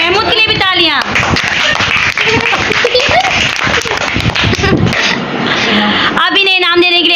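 Children's competition prize ceremony, where a small group claps for the runner-up. The clapping is close and busy, with voices chattering over it, and a voice rises at the start and end.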